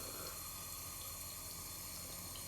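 Tap water runs steadily into a sink while a new fidget toy is rinsed, a constant close hiss and splash with no break and no voices.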